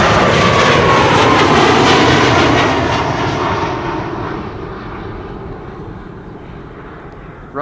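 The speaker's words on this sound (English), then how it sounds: "Ryanair is getting the hell out of here." Ryanair jet airliner departing Amsterdam Schiphol airport, a loud continuous engine roar that slowly fades and thins as the plane climbs away into the distance.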